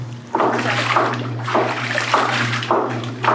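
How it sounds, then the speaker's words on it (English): A 1950s solar-powered wringer washing machine in an Amish home squeezes water from laundry, producing rhythmic gushing splashes about every second over a steady low motor hum. "this is the wringer, and it squeezes out the water."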